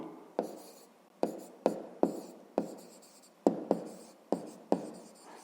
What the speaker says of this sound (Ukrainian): Пишемо цифру.